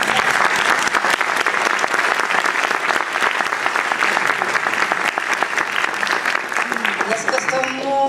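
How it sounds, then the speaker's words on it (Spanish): Warm, sustained applause from an audience at a conversation event with a photographer, a thick, even roar of clapping for several seconds that thins out at the end, where a voice begins speaking. "Un aplauso"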